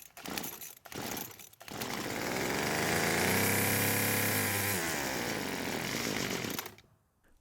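A Hyper Tough two-stroke string trimmer engine, found discarded by a busy road and under carburetor repair, sputters to life, revs up loud and close for a few seconds, then bogs down and cuts out.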